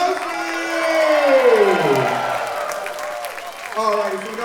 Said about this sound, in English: And one more huge round of applause for Maybe Moshi.